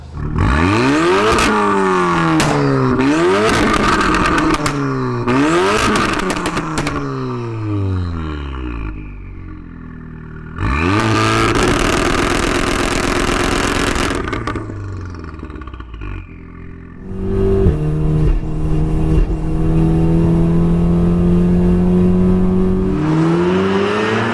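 A VW Golf R accelerates hard on a drive, climbing through several gears with loud rising revs and sharp shift breaks, easing off for a quieter stretch before pulling strongly again, close and loud inside the car.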